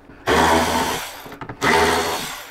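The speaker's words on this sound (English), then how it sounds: "we'll start here by removing the 2 screws from the lid" A power screwdriver backs screws out of a motorcycle saddlebag lid, two close, loud whirring bursts separated by a short pause with a few light clicks between them.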